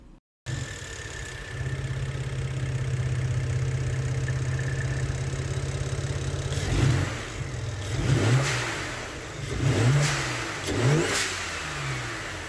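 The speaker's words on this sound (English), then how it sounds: "my car made whippy sounds when I lifted off the throttle" BMW 335i with a single-turbo conversion driving along, engine droning steadily, then several revs with whooshing blow-off valve releases each time the throttle lifts, spaced a second or two apart.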